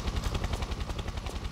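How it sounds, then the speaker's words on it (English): A helicopter in the video game Tomb Raider 3 gives a steady, fast rotor chop, fairly loud and continuous, with no voices over it. "that's our helicopter there, waiting for us."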